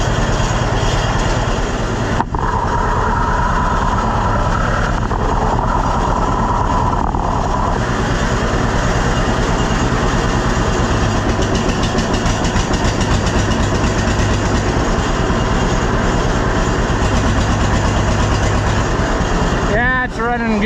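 A John Deere B tractor engine runs steadily close by, a loud continuous idling chug that carries through the whole stretch with a brief dip partway.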